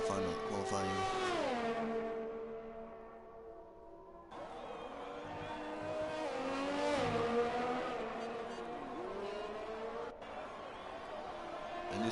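A Ferrari Formula 1 car on a flying qualifying lap at the Canadian Grand Prix in a racing game, its high engine note climbing and dropping through upshifts and braking, while a commentator talks over it.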